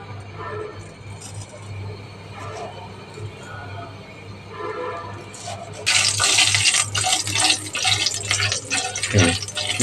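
Black cumin seeds hit hot oil for a pumpkin bhaji. After a quiet kitchen hum, a sudden loud, bright hissing sizzle bursts in about halfway through and carries on to the end.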